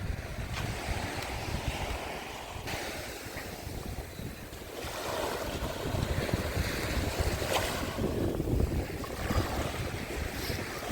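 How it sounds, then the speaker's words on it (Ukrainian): Steady wind buffeting the microphone over the wash of Black Sea waves at Arkadia beach, Odesa, rolling in and receding continuously with no voices. "І вітер є, і хвилі трошки є."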